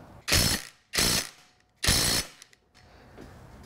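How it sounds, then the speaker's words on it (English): An impact wrench tightens a bolt on a 2004-2009 Toyota Prius engine during bottom-end assembly, firing three loud, close hammering bursts separated by short pauses, then quiet clicking. "now I am gonna cheat a little and use an impact"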